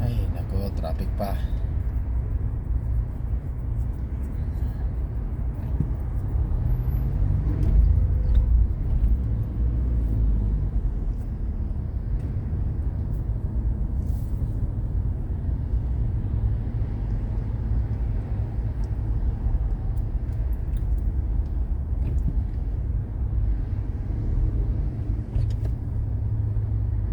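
Road traffic in a slow-moving jam near a restaurant, heard from inside a car as a low, continuous engine and tyre rumble, with occasional faint knocks and passing-vehicle swells throughout.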